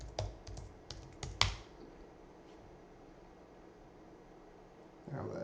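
Quick bursts of computer keyboard typing while working in a VirtualBox virtual machine, a handful of close, crisp key clicks in the first moments followed by a quiet room hum.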